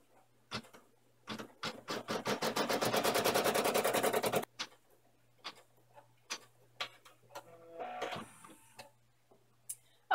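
Machine embroidery stitching flags on an in-the-hoop castle bag, a fast steady run of ticking needle strikes, then scattered clicks and a brief whirring thread-trim sound, moderately quiet and with no talking.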